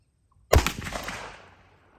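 A single loud gunshot from a Smith & Wesson .357 Magnum revolver with an 8-inch barrel fired outdoors, a sharp blast followed by a rolling echo that fades over about a second.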